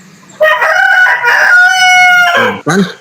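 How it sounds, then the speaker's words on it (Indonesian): A rooster crows loud and close, a long drawn-out cock-a-doodle-doo followed by a short clucking call at the end, with no voices over it. "Biar tidak ada suara ayam-ayam berkokok begitu ya"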